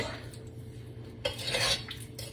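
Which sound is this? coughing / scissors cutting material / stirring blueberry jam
stirring blueberry jam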